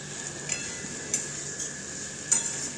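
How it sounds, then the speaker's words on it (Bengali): A spoon scrapes and knocks through pumpkin curry in a pan, a few soft intermittent strokes over a steady low sizzle, close and fairly quiet. "এরপর এটাকে ভালো করে আমি আবার একসাথে মিশিয়ে নিলাম"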